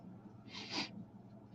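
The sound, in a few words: sniffling nose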